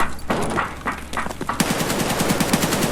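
Gunfire in the video game Escape From Tarkov: a few loud separate shots followed by a rapid automatic burst, sharp and near, with no voices over it.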